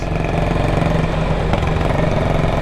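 A Yamaha MT-09 motorcycle engine runs steadily at idle, loud and close, a continuous low rumble with slight rev fluctuation and no talk over it.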